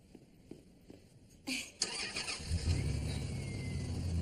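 An old car is started: faint soft clicks and taps come first, then the starter cranks briefly and the engine catches into a steady, rumbling idle that carries on to the end.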